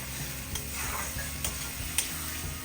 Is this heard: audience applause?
no